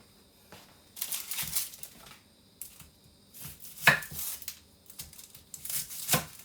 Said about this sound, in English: Now we're going to cut this onion.